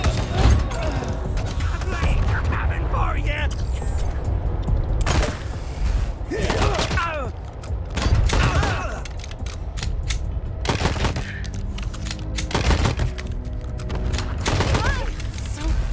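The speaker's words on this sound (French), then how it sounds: "J'ai l'impression qu'il tire sur tout le monde sauf sur nous." Gunfire rattles through a Wasteland 3 battle in bursts and single shots, with booms and thuds mixed in, while players talk over the shooting.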